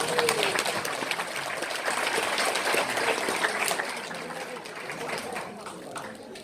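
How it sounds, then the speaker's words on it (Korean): Audience applause for award winners at a 2019 forest guide evening event, a steady dense clapping that holds loud and even for the whole stretch with no voices over it. "수상하신 분들한테 뜨거운 박수 한번 부탁드립니다"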